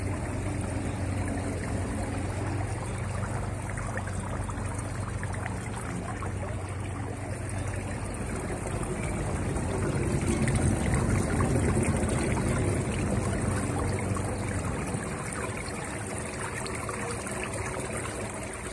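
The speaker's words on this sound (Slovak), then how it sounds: "pokiaľ je napnutá hrana, tento žblkot vody sa nedá nejakým spôsobom odstrániť" Water gurgles and trickles steadily over the taut overflow edge of a self-cleaning pool, a continuous close bubbling wash that swells a little midway, with no voices.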